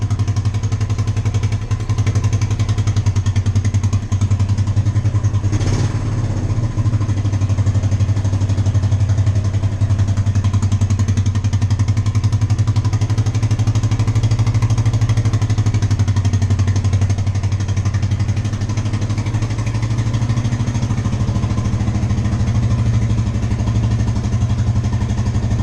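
A 1975 Honda XL350 K1 motorcycle engine idles steadily after a cold start, a loud close-up low thrum that holds an even, continuous beat throughout.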